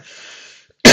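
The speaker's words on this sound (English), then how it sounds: "Sorry for the cough." A single sharp, loud cough bursts out at the very end, after a brief stretch of quiet hiss.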